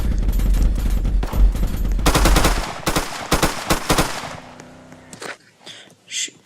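Gunfire in a video game police chase: rapid bursts of loud shots crack over engine rumble, then a few separate shots fade out as the scene quiets.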